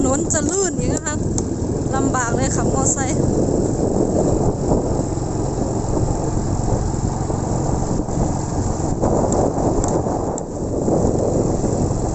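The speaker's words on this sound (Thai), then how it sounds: "ฝนตกนะคะตอนนี้" Rain falls on an open road up a hilltop temple in Thailand, a steady broadband hiss with wind buffeting and a passing motor vehicle, while someone talks over it early on.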